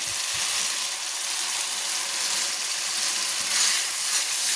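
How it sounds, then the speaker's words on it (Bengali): Spice masala for chicken darbari fries hard in oil, a loud, dense, close sizzle that hisses without pause, with a few soft stirring scrapes and no talking. "আর একবার ভালো করে মশলাটাকে কষিয়ে নিচ্ছি"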